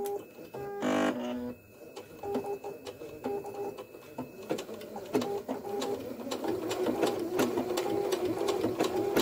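A domestic sewing machine stitches an appliqué with a machine appliqué stitch, whirring close and steady in short bursts that build into a continuous run, with faint bird cooing in the background.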